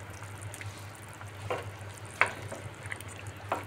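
Rohu fish pieces dropping into a simmering raw banana and potato curry, giving a gentle bubbling sizzle with a few soft splashes and clinks nearby over a low hum.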